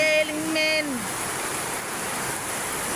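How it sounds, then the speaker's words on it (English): Rain falls steadily on a morning in Davao, a continuous broadband patter and wash; a voice sings briefly at the start over it, then the rain carries on alone. "Rainy morning in Davao."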